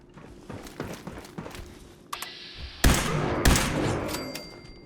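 A laser sniper rifle fires in a video game, two loud, sharp shots with a ringing electronic tail standing out after softer footsteps and mechanical clicks.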